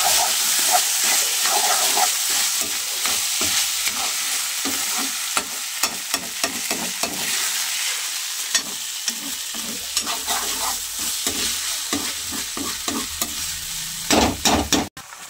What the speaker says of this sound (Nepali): अब एकछिन मजाले चलाउने भुट्ने भात एकछिन।